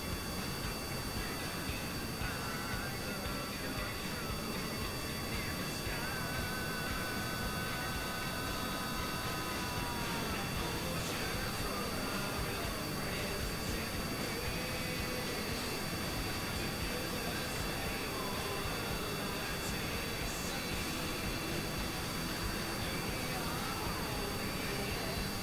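An aircraft-style engine spools up in Kerbal Space Program. It gives a constant dense mechanical drone with faint whining tones that shift slowly, loud and unbroken throughout.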